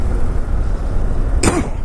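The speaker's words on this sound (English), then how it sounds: "And that's not a COVID-19 cough." A single short cough near the end comes from a motorcycle rider in the UK, over steady low engine and road rumble.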